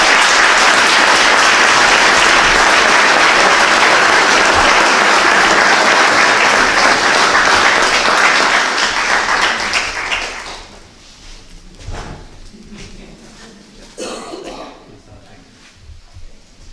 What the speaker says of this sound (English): I want to pause for a moment to give her a round of applause